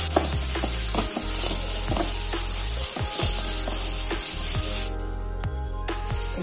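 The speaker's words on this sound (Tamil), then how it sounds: "கரம் மசாலா சேர்த்துட்டு இதோட நல்லா பச்சை வாடை போற அளவுக்கு நல்லா கிளறி விட்டுக்கலாம்." Garam masala fries in hot oil with a dense, close sizzle, while a spatula stirs it with regular scraping taps. The sizzle drops slightly near the end.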